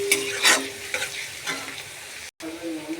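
Ginger and garlic frying with onion in oil, a loud close sizzle broken by quick scraping stirs of a spatula, with a momentary dropout near the end, no talking.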